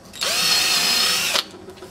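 A handheld electric drill bores a hole through a board with a scrap board underneath, giving one loud, high-pitched whirring burst of just over a second that cuts off sharply.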